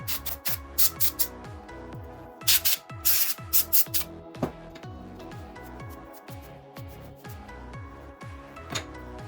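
Blasts of air are blown into a PS4's vents to clear out dust, heard as short, loud bursts of hiss close by over a rhythmic, rubbing mechanical background.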